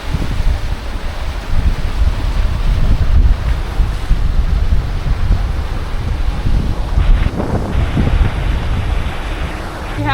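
Sailboat motoring under engine through a rough quartering sea in the Aegean during the Meltemi, with steady wind buffeting and surging waves giving a loud, continuous roar close by.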